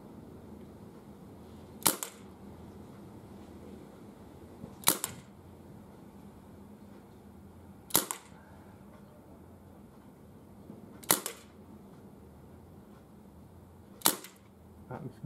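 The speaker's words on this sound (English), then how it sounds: "So out of those 6 shots, I think I put 4 in the target." Five sharp, evenly spaced shots from a Webley 2.5 inch revolver at an outdoor range, each crack roughly three seconds apart and standing out loudly against a quiet background.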